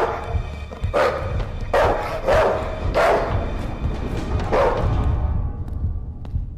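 Dogs in a horror video game bark in a run of loud, sharp barks, about six in quick irregular succession, close and prominent over a low background rumble.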